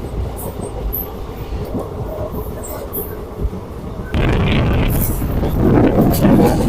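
Constant rumble and rattle of a moving passenger train heard from inside, passing through paddy fields toward Thrissur, growing louder partway through, with faint voices in the carriage.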